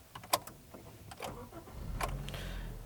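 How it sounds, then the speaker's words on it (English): A 2018 Honda Fit Sport with a six-speed manual turns over with a brief starter crank, then catches and settles into a smooth, steady low idle, heard from inside the car. "right when I started up, it seriously just sounds like my old Fit"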